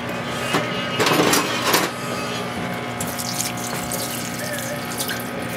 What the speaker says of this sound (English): Turn my water on.